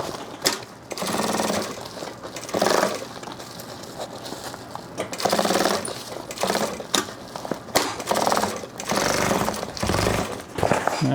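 A sewing machine stitching a drop-liner tote bag runs in repeated bursts of rapid mechanical whirring, close and loud, separated by brief pauses.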